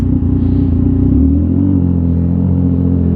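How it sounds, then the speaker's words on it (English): A 2018 XSR900 motorcycle with an SC Project aftermarket exhaust idles close by in a deep, steady rumble, with a slight shift in pitch partway through; low and throaty, no voices. "because I want you to hear this exhaust"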